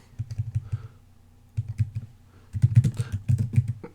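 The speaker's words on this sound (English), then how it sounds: "I'm typing on my Bluetooth keyboard" Keys tapped on a Bluetooth keyboard in irregular close bursts of clicks, with a pause in the middle and a denser flurry of typing toward the end; no one speaks.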